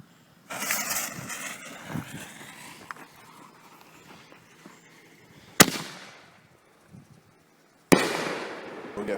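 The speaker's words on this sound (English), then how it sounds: "We got another one of them Night Stalker canister shells." A Purple Wave Night Stalker canister firework shell from Powder Keg launches and bursts outdoors, giving a thump and crackling rush, then two sharp, loud booming reports a couple of seconds apart, each trailing off into echoing decay.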